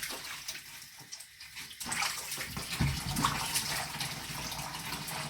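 Running tap water rinses fresh lemons for a pineapple skin, ginger and turmeric juice, a steady close gush that swells after a quieter start and then pours continuously with no talking.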